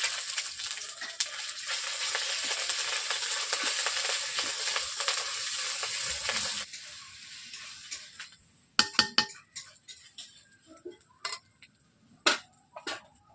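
Ginger paste frying with panch phoron spices gives a loud continuous sizzle for about seven seconds, then stops abruptly and gives way to scattered scraping and clinking of a spoon against the pan.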